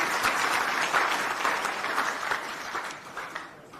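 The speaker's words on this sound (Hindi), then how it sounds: "उनके लिए मैं तालियों की गड़गड़ाहट से स्वागत" A political rally crowd in Assandh, Haryana applauds to welcome a speaker, steady mid-distance clapping that gradually fades over a few seconds.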